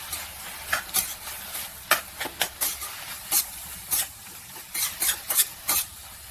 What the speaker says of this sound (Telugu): టమాటా కూడా వేసేసుకొని వేపుకుందాం.